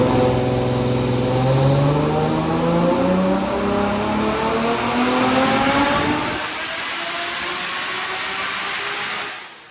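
A stock-block RB25DET NEO engine in a car tuned on ethanol to about 720 horsepower accelerates hard in a roll race, loud rising engine roar with climbing pitch and turbo whine heard from inside, easing off near the end.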